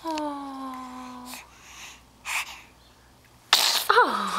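A single sharp sneeze bursts out near the end after a quiet stretch with a faint tone and soft sounds, followed by a brief breathy sniff.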